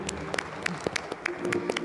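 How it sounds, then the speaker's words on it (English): Scattered, uneven claps come from a small church congregation at Sunday Mass, thanking a visiting priest. The claps are sparse and fairly faint, with individual hand strikes distinct rather than blending into a full ovation. "let's give him a round of applause"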